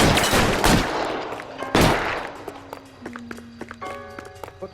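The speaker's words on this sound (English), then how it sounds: "What's with all the firecrackers?" Firecrackers going off in the L.A. Noire video game: two sharp, loud bursts about a second apart, followed by scattered lighter pops and clicks over a soft tonal background.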